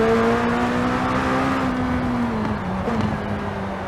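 A McLaren Speedtail's exhaust in Forza Horizon 4 holds a loud, smooth high-revving drone, pitch easing slightly then dipping as the car shifts near the end, with no talk.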